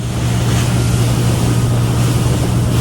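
Motorboat ride between islands in Vietnam, with a steady low engine drone under heavy wind buffeting and rushing water, constant and loud throughout, no voices.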